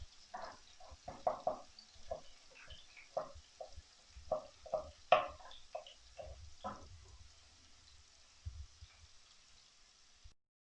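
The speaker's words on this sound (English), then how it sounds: "ginger and garlic which is frozen. So we're gonna fry this first." A block of frozen ginger and garlic frying in oil in a pan, giving quiet sizzling with scattered pops, stirring scrapes and knocks over about ten seconds.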